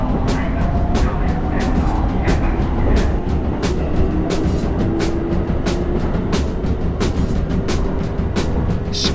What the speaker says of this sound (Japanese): もうすぐね電車来ると思うんですけど、進行方向こっちなので最後尾の車両ですね。